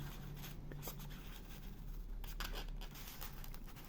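A sharp craft knife cutting through a part for a scale WWII gun emplacement model, producing faint dry scratchy scraping strokes in quick irregular succession over a low steady background hum, close but quiet.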